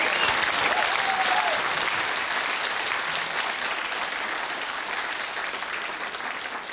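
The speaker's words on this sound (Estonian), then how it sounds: "Teeme veel suure aplausi sellele imelisele istutusele." Sustained, dense applause from a large audience at a school graduation ceremony for ninth-grade classes in an assembly hall, loud at first and gradually tapering off, with no speech over it.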